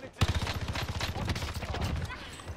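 Rapid automatic gunfire from Call of Duty Warzone, a dense rattling burst of close shots lasting about two seconds before trailing off.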